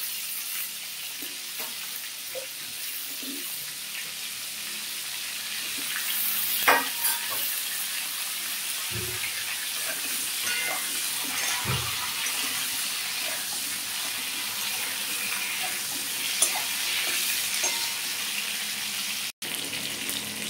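Cauliflower frying in a pan with a continuous even sizzle and hiss, broken by occasional faint knocks and scrapes, with no voices over it.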